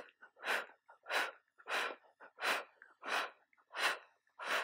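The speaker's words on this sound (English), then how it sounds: "Exhale out of the mouth." During a yoga workout, a person breathes rhythmically and forcefully out through the mouth, close to the microphone, giving seven sharp exhales with short inhales between them.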